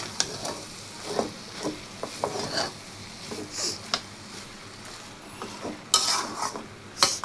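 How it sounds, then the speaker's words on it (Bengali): Minced beef fries in a pan with oil as a spoon stirs it, making soft sizzling under irregular scraping and clinking strokes that are close and moderately quiet. "তারপরে আবার সব একসাথে করে নেড়ে ছেড়ে নেব।"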